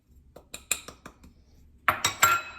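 A spoon stirs sugar, cornstarch and cocoa in a bowl for chocolate blanc-manger, making a quick series of clinks and scrapes close up that grow louder toward the end, with no talk.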